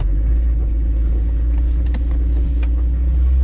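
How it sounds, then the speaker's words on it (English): An old Jeep's engine runs at the start of a ride, a loud steady low rumble close by with a few faint clicks and rattles, no talking. "let's take this thing for a little Jeep ride"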